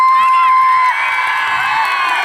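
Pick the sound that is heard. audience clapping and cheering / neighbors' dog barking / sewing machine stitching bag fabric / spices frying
audience clapping and cheering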